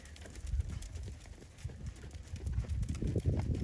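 A horse cantering in a riding arena during a schooling session on the right rein, with soft rhythmic hoofbeats thudding low and steady in the background, joined by a bit of bird cooing nearby.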